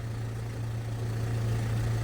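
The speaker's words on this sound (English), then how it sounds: "I've just started the engine up. It's been half an hour at idle." A steady, low diesel engine of a Land Rover Discovery Sport with a blocked DPF idles continuously with an even hum, close by and unchanging, with no voices.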